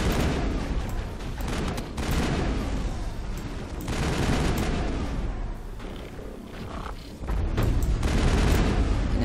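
Rapid bursts of battle rifle gunfire in Mass Effect on Noveria, loud and dense, with heavy booming impacts and brief lulls between volleys, alone without talk.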